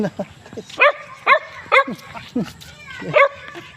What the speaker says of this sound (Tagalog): Naglalaro yung aso guys.